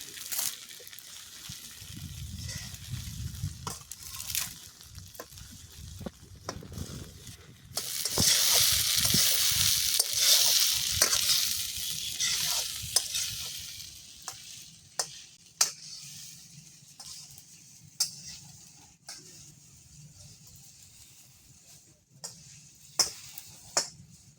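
Flattened rice pulao (chirer pulao) is stirred in a pan outdoors in a village, with spatula scrapes and taps over a sizzle, a louder hissing stretch in the middle, then sparse clicks, with soft voices faintly in the background.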